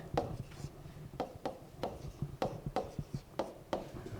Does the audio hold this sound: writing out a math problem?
yes